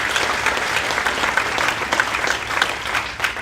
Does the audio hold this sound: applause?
yes